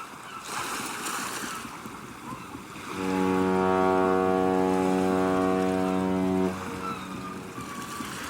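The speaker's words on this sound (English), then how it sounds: "That's the boat honking its horn." A boat's horn blasts once at the beach, a deep steady honk held for several seconds over the wash of waves and wind.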